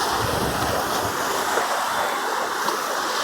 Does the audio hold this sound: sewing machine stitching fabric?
no